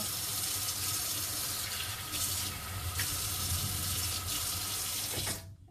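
A hot water tap runs steadily with a constant hiss of water for several seconds, close by, then shuts off abruptly near the end.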